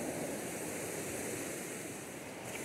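A waterfall with flowing water pours onto a small beach of coarse sand with clear water in Miracatu, São Paulo. It makes a steady, even rushing roar with no break, moderately loud and heard alone.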